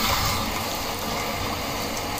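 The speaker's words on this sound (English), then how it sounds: "Oh, let's add more water." Water pours steadily into a pot of mongo beans for boiling, a continuous splashing gush that stays close and even throughout with no voices.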